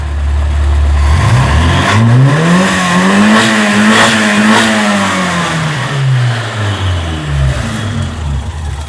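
A Nissan 1400 engine fitted with a free-flow exhaust and Wildcat branch revs hard past 6,000 RPM, its loud, close whine rising, holding high, then falling off over several seconds.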